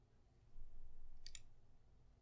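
Mouse clicking a web link: two quick, faint, sharp clicks in close succession over quiet background hiss.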